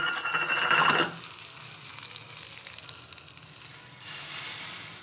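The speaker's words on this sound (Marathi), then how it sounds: "बघा कसा चर्र आवाज आला, असा चर्र आवाज आला पाहिजे" Asafoetida hits hot oil for onion chutney with a loud burst of sizzling that fades after a second into a softer, steady crackle, rising slightly again near the end.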